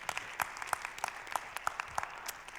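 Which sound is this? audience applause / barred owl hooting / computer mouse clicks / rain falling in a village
audience applause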